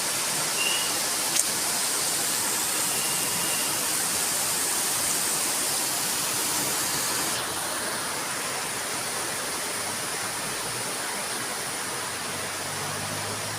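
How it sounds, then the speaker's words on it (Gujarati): A heavy afternoon downpour roars as a loud, steady wash of rain noise that fills the whole clip without a break. "ફૂલ ધોધમાર વરસાદ ચાલુ થઈ ગયો જો"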